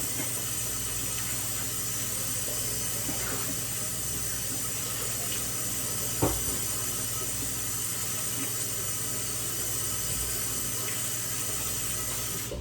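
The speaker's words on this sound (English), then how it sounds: "Now that my vegetables is being washed" Vegetables rinsed under a running kitchen tap, a steady broadband hiss of water into a sink that holds for the whole stretch, with one brief clunk midway and no talking.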